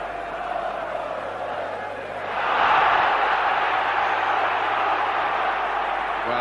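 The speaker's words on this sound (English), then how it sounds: "The crowd on the far side reacted to the tackle, and Roy Keane" Football crowd at the 1991 FA Cup semi-final between Nottingham Forest and West Ham United, reacting to a tackle from the far side of the ground; a steady murmur swells into a louder, sustained roar partway through.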